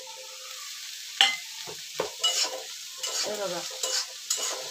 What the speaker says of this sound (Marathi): ह्या भाज्या आता चांगल्या व्यवस्थित परतून घ्यायच्या